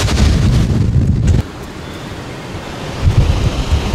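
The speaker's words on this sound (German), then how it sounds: "Die Böenfront ist schon über uns." Powerful gust-front wind of a supercell thunderstorm near Wrocław, Poland, roars as loud, broadband buffeting against the microphone, easing briefly midway before surging again, with no voices.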